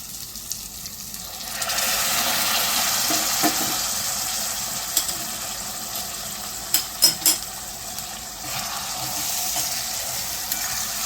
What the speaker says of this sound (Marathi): तर या मसाल्यामध्ये आपण थोडं गरम पाणी घालूयात